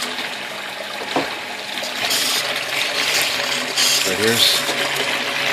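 A fairly heavy flow of water pouring down through a tank, a steady broadband rushing and splashing that runs continuously, with someone speaking briefly over it.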